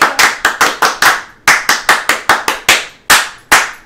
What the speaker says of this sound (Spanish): Aplauso deportivo para Ronald Herrera.